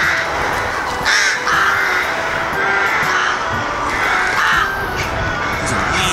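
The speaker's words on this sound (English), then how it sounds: "There's just crows everywhere." Many crows caw repeatedly in a noisy, overlapping chorus, harsh calls rising and falling at a steady moderate distance.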